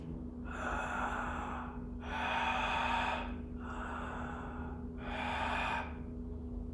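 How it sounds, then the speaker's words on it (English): Ujjayi breathing: a person draws four slow inhales through a contracted throat, each a soft, hissing, oceanlike rasp lasting about a second, separated by brief pauses over a steady low hum. "keeping that same throat contraction as you inhale"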